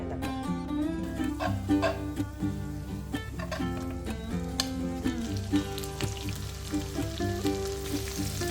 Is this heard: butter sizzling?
yes